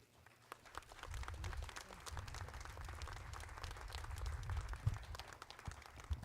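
Audience applause at a college groundbreaking ceremony, a steady round of clapping from a modest crowd, moderately distant and sustained for several seconds.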